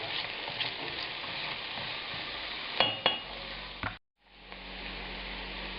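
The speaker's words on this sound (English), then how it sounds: "Now I'm adding the 120 grams of onion to it, and we'll begin sauteing these." Onions sizzle and fry in foamed melted butter for a stew of Flemish beef, beer and gingerbread, a steady close crackle with a couple of sharp pan knocks before a brief drop-out and resumed frying.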